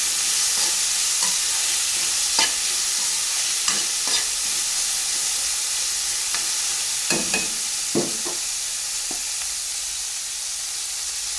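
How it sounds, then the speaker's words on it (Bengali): Boiled peas being stirred and mashed in a hot pan for a pea-and-potato curry, giving a steady sizzle broken by scattered scrapes and knocks of a spoon. "এখানে সেদ্ধ মটরগুলো এইভাবে দিয়ে দিলাম। এটাকে ভালো করে নাড়াচাড়া করে নিচ্ছি, কারণ এটাকে চটকে নিতে হবে ভালো করে।"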